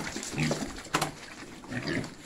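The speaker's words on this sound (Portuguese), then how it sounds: "Ê, Zé, você trata bem os porcos, Zé?" Pigs on a farm grunt and snort while being fed, with a steady close chorus of rough grunts and one sharper squeal-like burst partway through, with no speech.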